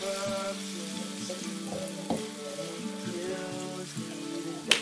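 Chopped onions sizzle and fry in a pan with minced meat while being stirred, a steady close crackle with occasional scrapes and clinks of the utensil, no talking.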